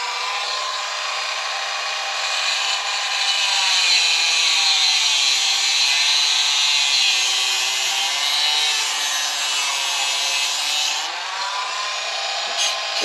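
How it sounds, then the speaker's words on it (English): Dremel rotary tool with a cutoff wheel trimming a metal front sway bar for an HB Racing D2 Evo RC car, a steady high-pitched grinding whine held for about eleven seconds, close and loud with no talking. "Let's take my Dremel and cutoff wheel."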